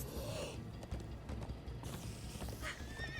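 Horses gallop in Minecraft: Story Mode, with continuous rhythmic clip-clop hoofbeats and a whinny near the end, loud and close over a game background.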